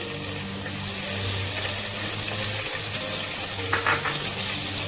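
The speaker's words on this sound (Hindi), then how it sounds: "अब इसके अंदर हम ये चॉप लहसुन डालेंगे" Chopped garlic added to onions already sautéed about five minutes in a pan while cooking restaurant-style chicken ginger, giving a steady close sizzle and frying hiss with a few light clinks of a utensil against the pan.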